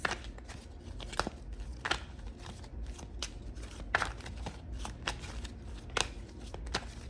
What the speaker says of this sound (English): I'm going to pull out 5 cards.